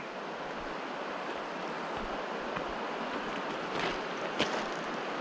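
Spread Creek, a shallow creek swollen with mountain snow melt, runs with a steady broadband rush of water, constant and fairly close, with a few brief splashes and no talking.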